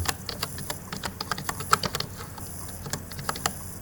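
Quick, irregular clicking of keys on a computer keyboard, close and clear, with bursts of keystrokes separated by short pauses and no voices.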